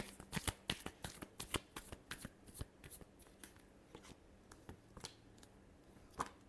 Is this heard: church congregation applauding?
no